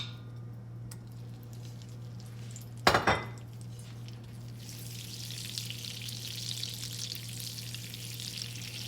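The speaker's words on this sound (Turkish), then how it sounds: "İyice eritelim yağımızla beraber karıştıralım" Butter melting with vegetable oil in a frying pan, one sharp clatter of a utensil against the pan followed by a growing fizzy sizzle, close and fairly quiet over a steady low hum.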